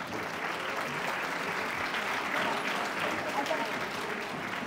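Applause from an audience at an arts and humanities congress, a dense, steady clapping sustained throughout the moment.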